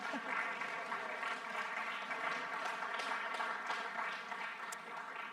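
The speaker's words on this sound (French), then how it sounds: "Non, il n'est pas dans la salle, mais vous pouvez l'applaudir" Continuous, moderately faint audience applause in a screening hall during a round-table event on Claude Chabrol, an even wash of many hands clapping without pause against a faint steady background hum.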